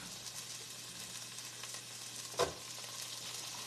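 Onions frying in a pan for homemade chili, a steady soft broadband sizzle throughout with one brief sharper clatter near the middle, no talking.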